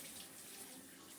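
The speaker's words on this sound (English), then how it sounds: "So really we're just gonna rinse it off." Water from a tap running steadily as something is rinsed off while preparing fresh ground hamburger patties, a faint continuous splashing hiss over its brief span.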